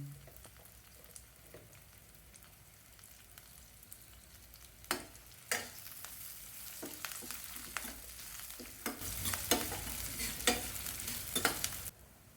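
Onions and garlic sauté for a fish curry, sizzling steadily in a hot pan, with scattered sharp scrapes and stirring clatters growing busier toward the end.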